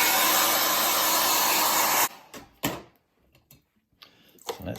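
A hairdryer blasts steadily at close range to dry paint, a loud broadband whoosh lasting about two seconds before switching off, followed by scattered soft clicks and handling noises.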